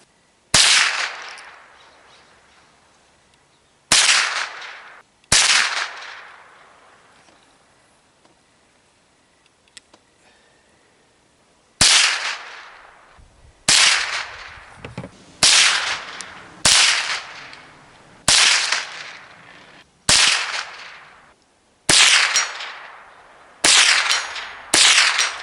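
Shots from a .357 carbine rifle being sighted in, each one a loud, sharp crack with a ringing decay. A few shots are widely spaced at first, then a steady run of roughly evenly timed shots follows.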